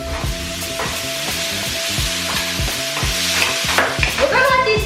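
Wedged tomatoes hitting hot oil with green onion and garlic in a Korean stir-fried tomato and egg dish, a steady close sizzle under rhythmic scraping strokes of a utensil stirring the pan, with no talking.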